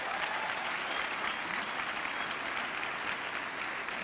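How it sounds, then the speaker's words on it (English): Sustained applause from an audience at a university welcoming event honours a doctor, a dense, even patter of many hands clapping without pause. "Another round of applause for Dr."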